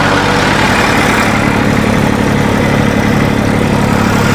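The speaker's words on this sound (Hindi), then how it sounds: "लगभग 1500 करे थे, 1500 RPM पर ट्रैक्टर जो है चल रहे हैं।" The diesel engines of a Massey Ferguson 241 and a New Holland tractor run steadily at about 1500 RPM, producing a loud, close, continuous low chugging drone with an even pulse and no speech.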